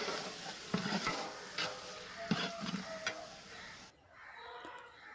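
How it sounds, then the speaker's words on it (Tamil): Chicken pieces dropped into a hot pan for biryani sizzle softly while a spoon stirs and scrapes them, with a few clinks of utensil on metal before the frying hiss quietens near the end. "இப்போ நம்ம சிக்கனை சேர்த்துருவோம். சேர்த்து நல்லா மிக்ஸ் பண்ணி விட்ருங்க."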